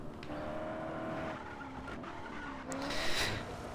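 A sports car's engine in the video game Just Cause 3 revving and shifting pitch, with tire squeal and a rising whine toward the end, fairly quiet.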